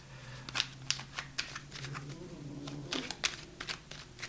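Tarot cards shuffled and drawn by hand, giving a run of soft, crisp riffles and slaps spaced through the stretch, close and quiet over a low steady hum, with no talking.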